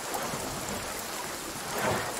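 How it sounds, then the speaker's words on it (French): Steady rain hisses across the whole stretch in the video game Sons of the Forest, with a low rumble of thunder swelling near the end; no voices. "il pleut sous la map. C'est trop fort."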